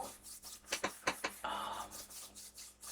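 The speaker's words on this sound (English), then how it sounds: "I am a huge fan of hand rubbing ASMR." Hands rubbing together close to the microphone in quiet ASMR, soft brushing swishes in short bursts with one longer rasping rub in the middle.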